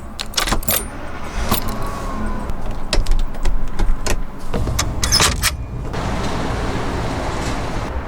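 An RV rolls along a highway with a steady engine and road rumble inside the cabin. Repeated sharp rattles and clinks run through the first six seconds before the ride settles into a smoother drone.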